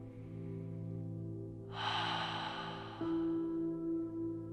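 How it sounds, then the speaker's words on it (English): A long, deep cleansing breath taken during a guided relaxation session, a soft airy inhale swelling over a low steady hum and then easing off, close and unhurried. "let's take a nice, long, cleansing, deep breath"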